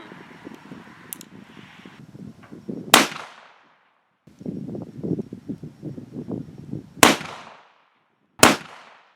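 Three loud, sharp gunshots from an 1862 Pocket Navy revolver ring out alone, spaced a few seconds apart, between stretches of low rustling and handling noise.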